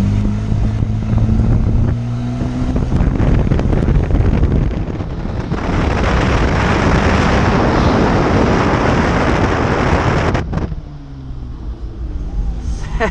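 A Hyundai Veracruz V6 with a stainless steel exhaust and the diffuser open roars loudly throughout, its rumble swelling with revs, with pops and crackles mixed in and wind buffeting the microphone.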